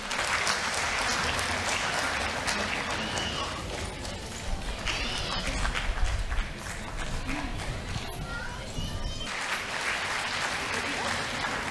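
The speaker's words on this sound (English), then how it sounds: "Please give her a big round of applause again." A preschool annual day audience claps steadily and loudly, with the dense applause going on without a break for about twelve seconds.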